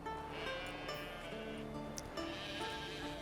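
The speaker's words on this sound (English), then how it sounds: "How do you call a sheep? Here, sheepy sheepy? Hey sheep, come here." A sheep in The Witcher 3 video game bleats repeatedly in a loud, wavering voice, with faint hoof and ambient game sounds behind.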